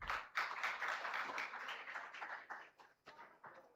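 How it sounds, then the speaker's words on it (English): A conference audience claps in a brief burst of applause, scattered hand claps that thin out and fade in uneven pulses toward the end. "Let's have one more big round of applause for the sir."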